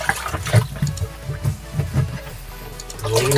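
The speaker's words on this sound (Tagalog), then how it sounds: "lagyan natin ng tubig" Water pours and sloshes into a washing machine being cleaned, a gurgling, splashing flow with uneven surges that grows louder toward the end.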